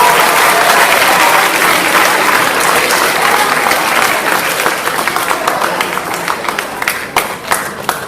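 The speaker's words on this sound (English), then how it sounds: "give these guys and their hard work a round of applause" Loud applause from students and teachers at a middle school assembly, a dense roar of clapping that gradually thins into scattered individual claps toward the end.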